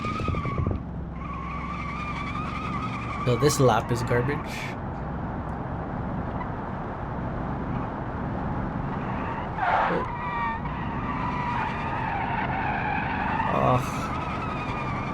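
Tires squeal and skid as a 1950s car with skinny tires and an open differential spins out in BeamNG, engine droning steadily underneath while someone talks over it.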